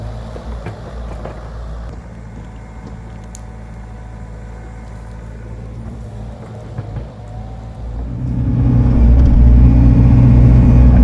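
A mini excavator digging a roadside ditch idles with a low steady diesel rumble, then the engine revs up and grows louder and heavier for the final few seconds.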